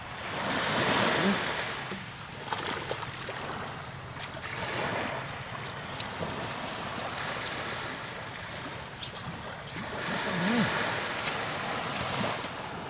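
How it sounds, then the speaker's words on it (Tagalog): Open sea surf at a Philippine shore where squid is caught for kinilaw, a steady broadband wash of waves mixed with wind buffeting the microphone, continuous and fairly loud throughout with no clear talk. "Ito ang dagat."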